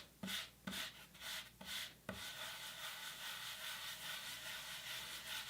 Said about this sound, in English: you need to take time and rub it or burnish it